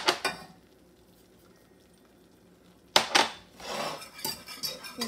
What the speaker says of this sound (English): I'm stirring it constantly, making sure I get the sides.